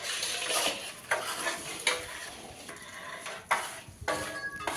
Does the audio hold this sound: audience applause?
no